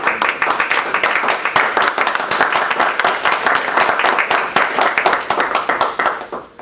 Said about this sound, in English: I want you to give him a warm applause as you welcome him.